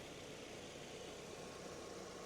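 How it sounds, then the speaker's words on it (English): A 2003 Mazda MX-5 engine idles steadily, a continuous even rumble and hiss with no revving or speech. "I will switch off the engine now."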